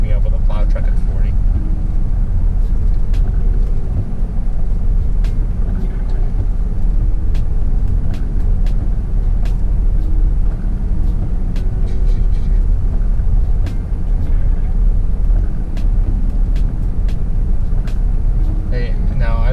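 A truck engine idles at low RPM with a steady, heavy low rumble while following a plow truck on a snowy road during a blizzard. Someone talks over the drone, and small ticks and clicks appear throughout.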